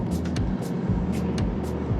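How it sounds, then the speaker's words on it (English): Aston Martin DBX 707 SUV with its exhaust set to loud, heard from inside on a test drive as a steady, deep engine drone with a few brief brighter pops over the rumble. "We do have exhaust on loud."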